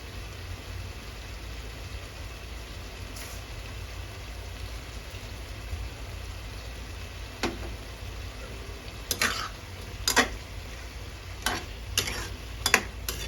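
Japanese cucumber and egg stir-fried in a pan, a low steady sizzle with a few sharp scraping or tapping clicks from the utensil toward the end, no voices.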